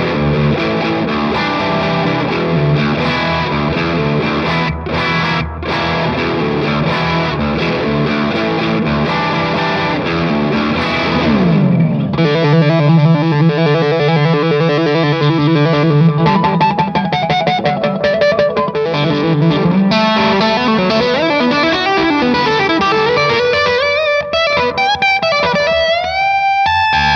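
Heavily distorted electric guitar through a Wintter Labs El Malito pedal chugs and rings out chords in a long, loud, continuous passage, with a brief pause and some bends near the end.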